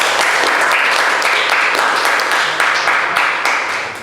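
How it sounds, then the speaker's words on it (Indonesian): A room full of people applauding for a group of students called to the front of a class, dense sustained clapping at close range that fades slightly toward the end. "Beri aplaus untuk kelompok 5"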